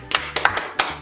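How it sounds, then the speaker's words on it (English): Brief bursts of video game applause in Star Stable Online, three quick sharp clusters in about a second, close and crisp. "Loud applause."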